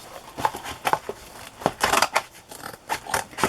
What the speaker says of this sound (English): I'm just going to cut the cover off